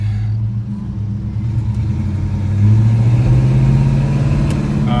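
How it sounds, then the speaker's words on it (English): A 1958 Studebaker Silver Hawk engine runs with a loud, steady low rumble from close by, its tone rising slightly partway through. "It's a nice motor. These Studebaker motors are really, really bulletproof."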